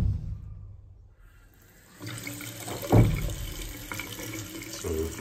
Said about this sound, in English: We've got water at the sink.